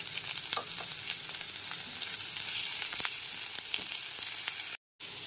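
Carrots sizzling in a pan of lightly fried poha for chirer pulao, a steady crackling fry with small pops and spatula scrapes, cut short by a brief dropout near the end, no talking.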